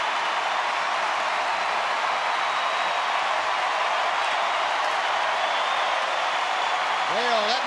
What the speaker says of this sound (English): The crowd ratcheting up the noise.